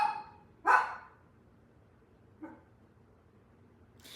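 A pet dog barks a few times, with one louder close bark, then a softer short yip a couple of seconds later and another at the end, over a quiet room with no talk.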